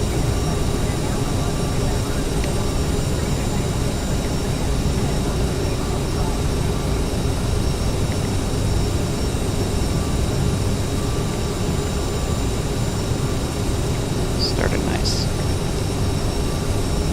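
CRJ-900 regional jet engines at climb power in the FSX flight simulator, a steady broadband roar with constant loudness and a faint high whine running throughout, no voices heard.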